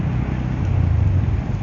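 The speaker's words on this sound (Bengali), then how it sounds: "গাড়ির শব্দ তো ভালো লাগতেছে না।" A vehicle engine runs with a steady, rough low rumble after its exhaust sat submerged in floodwater on a rain-flooded road, heard close with some wind noise and no talk.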